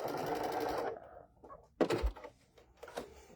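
A sewing machine with an open toe foot stitches across a striped zipper pouch, heard as a close, steady motor whir for about a second, followed by a few short mechanical clicks and knocks.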